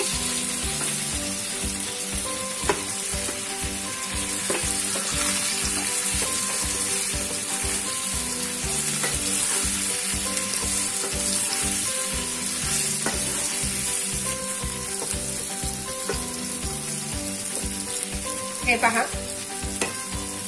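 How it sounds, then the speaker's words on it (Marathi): Coriander fritters (kothimbir vadi) shallow fry in oil in a pan, sizzling steadily and loudly throughout with a faint pulsing rhythm, and a single brief word is spoken. "आणि आता ह्या वड्या यामध्ये शॅलो फ्राय करून घ्या."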